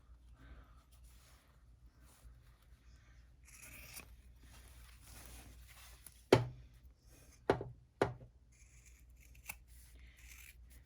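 Scissors trim fabric at a sewn seam on a small flat-bottom bag with three sharp, close snips after a stretch of quiet handling and rustling.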